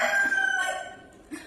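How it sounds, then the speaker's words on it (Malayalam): A rooster crows nearby, a single long, loud drawn-out call that fades toward the end, with no talk over it. "കോഴി"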